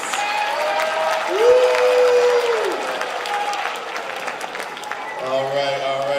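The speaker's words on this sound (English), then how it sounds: "All right, clap it up for our panelists." A school audience applauding student panelists, with dense sustained clapping and a cheer rising over it, plus a speaking voice across the crowd.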